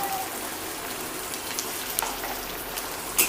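Onion pieces fry in a pan of oil with green chillies for a cashew chicken curry, giving a soft, steady crackling sizzle like light rain. The sound is quiet and continuous, with a few small pops and clinks.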